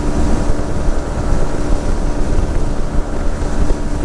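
A Yamaha XSR 125 motorcycle cruising on a motorway in the rain at high revs in fifth gear, a steady loud roar of engine drone mixed with rushing wind and road noise, continuous and close with no pauses.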